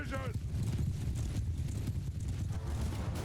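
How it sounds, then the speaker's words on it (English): Horse hooves galloping in the Mount & Blade II: Bannerlord video game make a dense, continuous drumming of many hoofbeats, loud and close, with a brief whinny near the start and someone talking over it. "This is so epic, riding with these horse archers."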